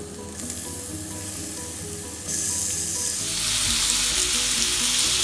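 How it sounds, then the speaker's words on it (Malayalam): Prawns hit hot coconut oil in a pan for an Irani prawn pola. A steady, close frying hiss jumps to a louder, fuller sizzle as they go in, with no voices. "ഈ സമയത്ത് നമുക്കിതിലേക്ക് പ്രോൺസ് ഫ്രൈ ചെയ്തെടുക്കാം."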